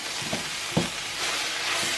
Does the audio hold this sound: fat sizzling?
yes